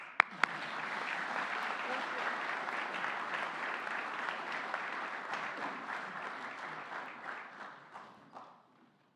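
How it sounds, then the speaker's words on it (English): A hall full of people at an honors convocation bursts into sustained applause that holds steady for several seconds before tapering off, with a brief spoken thanks near the start. "And one more round of applause."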